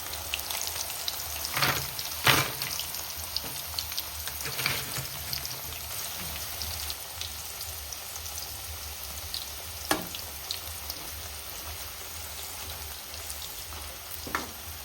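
Chips fry in traditional coconut oil with a steady, dense sizzle and crackle, close up, with occasional louder pops and stirring clicks over the constant bubbling.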